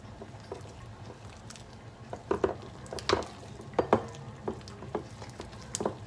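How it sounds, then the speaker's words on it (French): Shrimp fritter batter being stirred in a bowl, giving soft wet squelches and scrapes that come in irregular bursts, close and fairly quiet, with no one talking. "On mélange."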